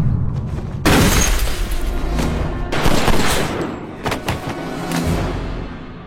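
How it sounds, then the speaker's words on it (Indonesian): Gunfire in an action film scene, loud booming shots and bursts with a sharp onset, several blasts spread over a few seconds with rumbling decay between them. "Di saat Gabriel mendekat erat tubuh John, ia menembak tepat di pundak John."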